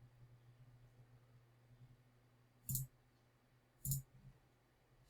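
Two crisp, isolated computer mouse clicks sound about a second apart in a quiet room, close and clear over faint background hiss.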